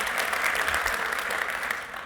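Audience clapping at a university lecture, a steady wash of many hands throughout the short clip with no pause.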